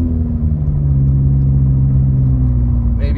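A car drives through the main part of Moon Ridge in Big Bear ahead of a tropical storm, its steady engine rumble and road noise loud and continuous throughout with no talk.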